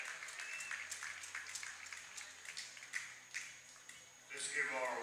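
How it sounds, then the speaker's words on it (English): Crowd applause for youth baseball award winners at the Colt World Series championship game, a steady clatter of clapping with some voices and a louder swell near the end. "Let's give our award winners a big round of applause."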